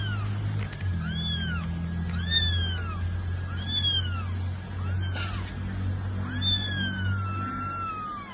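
Repeated cat meows, four or five drawn-out rising-and-falling calls spaced a second or two apart, close and clear over a steady low hum, with no talking.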